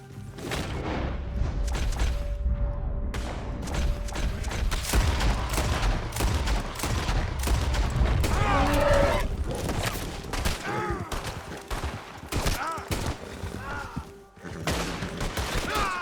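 Gunfire in a Red Dead Redemption 2 shootout, dense bursts of sharp shots and booms overlapping in rapid clusters, loud and near, with brief lulls between volleys and some shouting mixed in.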